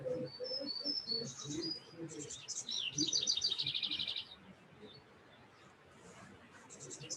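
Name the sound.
birds singing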